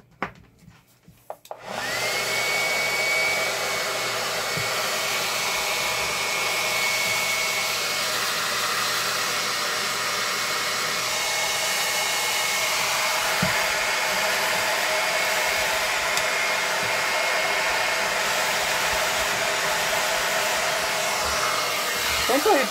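A Conair rotating hot-air brush dryer switches on after a couple of handling clicks and then runs steadily with a loud, even blowing whir and a faint high whine for the rest of the clip, with no talking.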